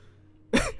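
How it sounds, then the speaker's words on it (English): A single short, dry cough bursts out abruptly after a quiet stretch, close and fairly loud, with a brief throaty tail. "He coughed, a dry chuckle."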